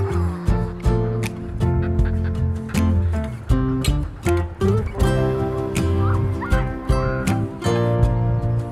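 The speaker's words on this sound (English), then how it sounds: "there are all these birds nesting in the side of the cliff. Amy says that she thinks they are fulmars." Fulmars nesting on a sea cliff on the Cornwall coast give loud, close, repeated cackling calls in uneven bursts, overlapping one another almost without pause.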